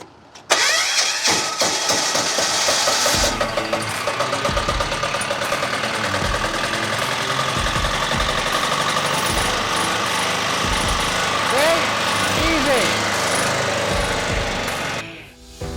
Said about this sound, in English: They told me that if I put this key in that socket and turn it, the generator will start.